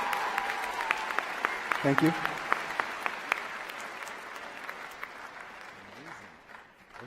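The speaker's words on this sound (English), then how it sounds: "Give them a round of applause" Applause at a middle school graduation ceremony for eighth graders, steady clapping from the audience lasting several seconds and slowly thinning out, with a voice speaking briefly over it.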